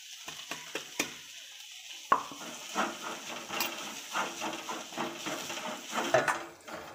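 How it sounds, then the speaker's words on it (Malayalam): Crushed chicken is sautéed with onions in a pan for chatti pathiri, a soft sizzle with repeated scraping stir strokes throughout. "ഇനി ഇത് നമുക്ക് ഈ സവാളയിലേക്ക് ഇട്ട് കൊടുത്തിട്ട് നന്നായിട്ട് വഴറ്റിയെടുക്കാം"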